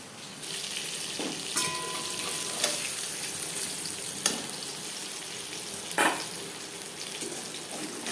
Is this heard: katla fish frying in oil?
yes